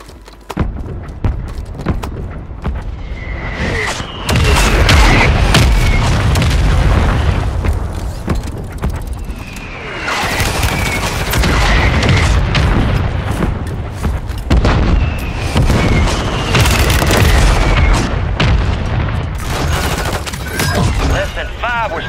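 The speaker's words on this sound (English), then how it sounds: "Friendly mortar strike inbound." A friendly mortar strike in a Call of Duty match sets off loud, dense booming explosions layered with rapid gunfire in long rolling bursts, with faint game voices underneath.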